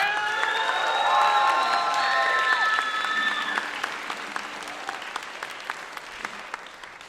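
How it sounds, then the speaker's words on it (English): Concert audience claps and cheers for an alto saxophone soloist during a college symphonic and jazz band performance, a loud burst with whoops that thins into scattered individual claps. "Give one more big round of applause for Danny on alto saxophone solo."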